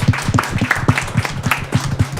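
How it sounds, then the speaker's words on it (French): A small group claps in a brief, lively burst, hands striking in quick, uneven rhythm at close range, fairly loud with no voices over it. "On peut applaudir Charlotte quand même."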